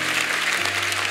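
A church congregation breaks into clapping during a sermon, a short burst of many hands at moderate loudness with a low sustained hum beneath it.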